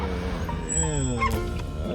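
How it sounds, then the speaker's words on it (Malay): A dog guarding free-range chickens gives close, whining yips and short barks, with a person talking over it. "Anjing dia jaga free range chicken."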